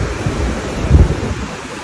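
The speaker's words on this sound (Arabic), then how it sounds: "شوفوا سبحان الله اليوم البحر طالع رياح" Strong wind gusts blow across a beach in Thailand while sea waves surge and break on the shore, forming a steady, loud roar with a brief swell in the middle and heavy wind rumble on the microphone.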